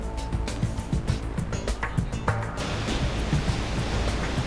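Heavy sea waves with 3 to 4 m swells surge and crash around a harbour pilot boat, a loud, continuous rushing roar with irregular splashes and spray.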